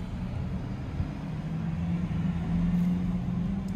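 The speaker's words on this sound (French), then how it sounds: "Audi a travaillé, entre guillemets, la sonorité de sa voiture électrique" An Audi Q4 Sportback e-tron electric SUV's synthetic driving sound, a steady low humming drone with a faint tonal whine that swells slightly, heard from inside the cabin with no talking.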